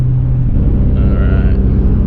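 Race car with a Toyota JZ engine rumbling steadily at close range, a continuous loud low drone with a brief rise in pitch midway and no voices.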